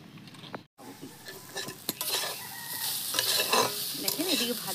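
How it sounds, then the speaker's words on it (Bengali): Bitter gourd (karela) with green chillies fries in a karahi, a close, bright sizzle with repeated clinks and scrapes from stirring, and no talking. "দেখেন এইদিকে আমি ভাজা ভাজা করে নিচ্ছি।"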